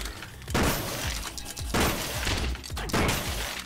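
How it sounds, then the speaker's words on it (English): Explosions in a wave-based video game shooter, heard as three loud, broad noisy bursts about a second apart, each followed by a rumbling decay over steady game din. "I thought that grenade came flying at me."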